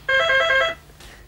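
A telephone gives one short bright electronic ring, close and clear, followed by a brief rustle.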